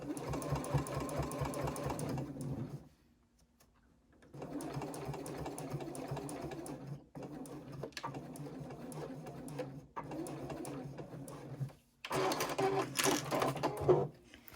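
A sewing machine stitches a fabric pouch closed, past the opening and back stitching, in several close bursts of steady whirring separated by short pauses, with handling clicks in between.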